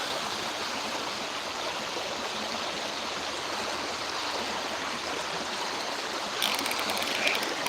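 Water flows steadily along a creek in a smallmouth bass fishing spot, a constant close rushing wash with faint ticking near the end.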